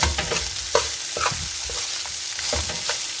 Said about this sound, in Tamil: சாதத்தை சேர்த்து இந்த மாதிரி நல்லா மிக்ஸ் பண்ணி கொடுங்க